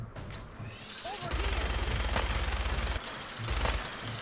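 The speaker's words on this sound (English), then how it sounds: "Minigun. Why didn't I think of this sooner?" Rapid bursts of minigun fire in the video game Fallout 4, loud and dense, with a sustained stretch in the middle, a short break, then another burst near the end.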